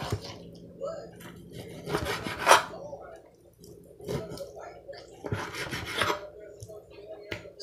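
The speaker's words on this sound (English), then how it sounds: "Let me cut this little skin off the back side." A knife cuts the skin off the back of a pork piece for pork medallions, making close, rasping scrapes in short bursts with quieter gaps between the strokes.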